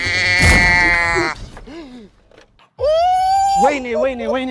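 A sheep bleats loudly in several long, wavering cries at close range, with a brief quiet gap between calls and a person speaking alongside.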